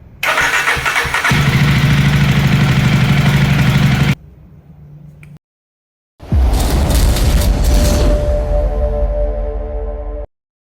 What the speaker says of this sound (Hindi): इस बाइक को स्टार्ट करके देखता हूँ स्टार्ट हो पाता है या नहीं हो पाता